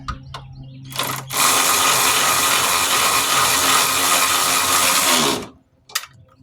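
A cordless battery-powered ratchet drives motor mount bolts on a 2007-2012 Nissan Altima, running in one loud, continuous whirring burst of about four seconds, framed by brief clicks and tool handling.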